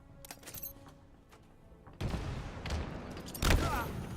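A grenade blast in the Halo video game, with a sudden loud broadband burst at the midpoint and a second heavier boom soon after, following quieter game sounds.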